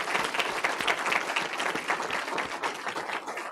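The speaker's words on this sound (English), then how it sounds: "let's give a big round of applause to our amazing student speakers and administrators" An audience at a school board meeting claps steadily and densely throughout, a sustained wash of many hands at close-to-mid distance with no pauses.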